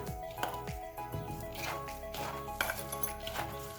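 Shredded cabbage being tossed and stirred with chilli powder, pepper powder and salt in a bowl for Indo-Chinese cabbage Manchurian, giving soft squishy rustles and light clinks of utensil against the dish, close and moderately quiet.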